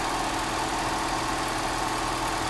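A Mercedes-Benz W123 230E engine idles during idle mixture adjustment, producing a steady, close, even hum with a low rumble and no change in speed across the clip.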